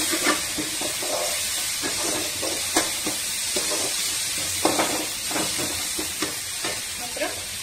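Ginger paste sizzles and hisses steadily in a hot pan while being stirred for rava kichadi, with frequent scraping and clinking strokes of a spoon against the pan throughout.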